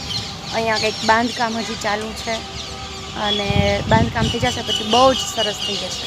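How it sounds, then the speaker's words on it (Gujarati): Sparrows chirp around a Mahadev temple in short, repeated bursts near the listener, while a person talks over them. "ચારે બાજુ ચકલા બોલે છે."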